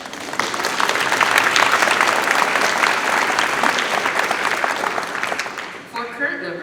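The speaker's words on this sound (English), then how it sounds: "You may applaud if you would like." Steady applause from an audience at a National Honor Society and National Technical Honor Society induction ceremony, dense and sustained for several seconds before tapering off near the end.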